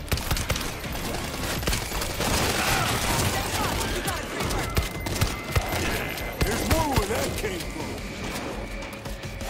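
Rapid gunfire and crashing impacts from a big gun in World War Z, dense and continuous with sharp repeated shots, with voices talking underneath.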